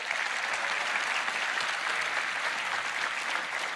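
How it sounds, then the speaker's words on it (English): A crowd applauds at the Roblox Developers Conference 2024 keynote with a steady, even wash of clapping, heard from a distance and at moderate level. "Let's give him a round of applause."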